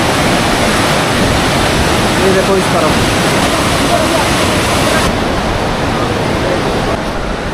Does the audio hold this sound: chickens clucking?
no